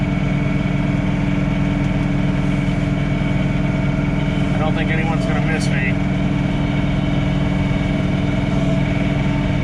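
A John Deere 3046R cab tractor idles at night in snow, its engine a steady, loud rumble throughout while someone talks over it.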